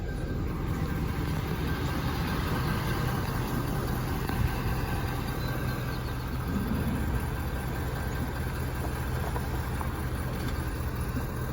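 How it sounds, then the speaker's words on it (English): A pickup truck engine runs steadily while pulling forward after being unhitched from a Forest River camper, a constant mid-pitched motor drone at moderate distance with no clear revving. "I'm going to go ahead and pull the truck forward."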